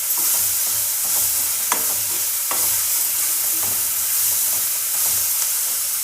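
Spiced dry vegetable masala with garam masala frying in a pan, a constant close sizzle broken by scattered scraping stirs of a spoon.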